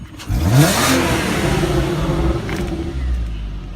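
A Nissan Skyline R32 engine revs up after its first cold start in over eight months, a loud rising roar that settles into a rough, steady idle close by.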